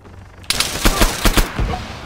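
Gunfire in Arma 3 tied to an ASP-1 sniper rifle: a sharp opening crack followed by a rapid string of loud, close shots with short gaps between them.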